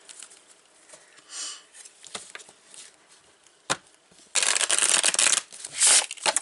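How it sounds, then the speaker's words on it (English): Lenormand cards being shuffled by hand, soft papery riffles and patters that swell into a louder, denser burst of rapid card flicks near the end, close and alone without talk. "I'm going to shuffle 2, 3 more times here."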